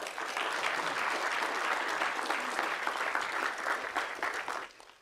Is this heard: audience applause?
yes